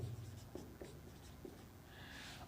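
Pen or marker writing out a maths problem, faint scratchy strokes with soft taps at a slow, uneven pace against a quiet room background.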